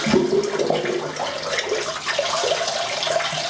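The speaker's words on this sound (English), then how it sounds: "Just running the blade under the hot water tap." Hot water from a bathroom tap runs steadily over a razor blade, a continuous splashing rush close by with no voices.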